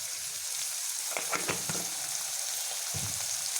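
Leafy amaranth greens frying in a pan, giving a soft steady sizzle with a few brief stirring scrapes and clicks, faint and close, with no one speaking.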